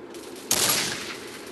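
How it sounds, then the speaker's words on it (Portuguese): Gunfire in a video game: a sudden loud burst of shots erupts after a quiet moment and trails off into a noisy decaying wash, with no talking. "o tiro foi totalmente errado"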